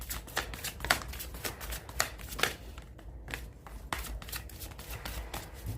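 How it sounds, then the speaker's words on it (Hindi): Tarot cards shuffled by hand for a reading, a quick run of crisp riffling and slapping bursts close by, fairly quiet, with a brief pause midway. "last shuffle"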